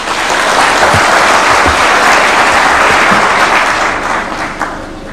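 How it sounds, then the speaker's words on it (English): Loud, dense applause from a large audience at an ambassadors' conference right after a head of state's speech, a continuous wall of clapping that fades a little near the end. "Another round of applause for His Excellency."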